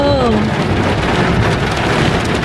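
Heavy rain pours steadily at night with a dense, loud hiss, and thunder rumbles low beneath it. A brief voice is heard at the start.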